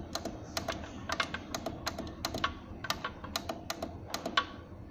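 A password is keyed into a ticket counter machine keypad as a quick, uneven series of close, sharp button clicks, some in rapid pairs and some spaced apart, with no one talking.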